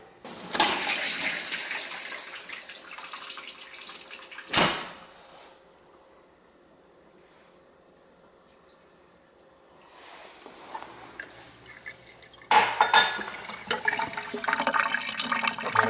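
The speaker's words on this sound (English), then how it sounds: "Draining now. Just doing that to flush the antifreeze out, you know, drain it." Water drains through the plumbing of a winterized house to flush out antifreeze: loud rushing bursts at the start, a sharp gush, a quiet trickling stretch, then strong draining flow again.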